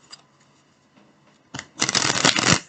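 Tarot cards shuffled by hand, a brief riffle and then a loud, close, dense burst of flicking and slapping card sounds lasting about a second, with no talking.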